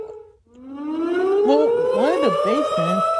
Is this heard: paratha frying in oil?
no